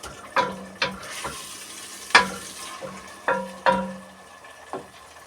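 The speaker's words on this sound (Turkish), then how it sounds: "Şimdi kavuruyoruz. Kavurma işlemine başladık. Kavuracağız. Birazcık soğanı" Onion sautéing in a pan gives a soft sizzle broken by about half a dozen sharp clinks and scrapes of a utensil stirring against the metal, close by and with no talking.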